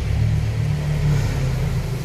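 A Nissan Almera 1.5 engine that is losing power runs with a steady, loud low rumble and a slight rise in revs. No one speaks over it.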